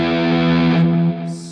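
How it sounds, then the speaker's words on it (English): Electric guitar played through distortion from humbucker pickups, with a thick, sustained, heavily driven chord that rings loud and alone, then cuts off abruptly near the end. "So with a little bit more distortion on from the humbuckers."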